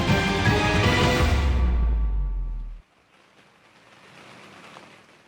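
Loud, dense rush of heavy rain that cuts off abruptly, leaving a faint, quiet background hiss.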